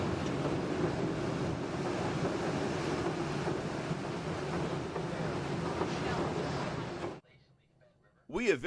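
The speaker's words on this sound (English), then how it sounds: "When water crashes on rocks like this, it's forced to carry more oxygen" A tumbling creek crashing over rocks, seen from a bridge: a dense, steady roar of rushing white water that fills the sound for about seven seconds, then cuts off abruptly into near silence before a brief, different sound at the end.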